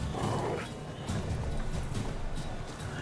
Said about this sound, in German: Ah, Hunde, ja, das ist mein Großkryptonit